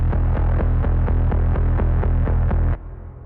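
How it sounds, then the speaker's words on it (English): A deep synth bass from the Grinding Gears Rhythm preset throbs in a fast, steady pulse with bright rhythmic ticks on top, then drops to a softer sustained drone near the end. "So if you wanted that cool pulsing cinematic bass effect,"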